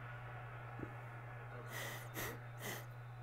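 A person sniffles a few short times in a row, quiet and close, over a steady low electrical hum.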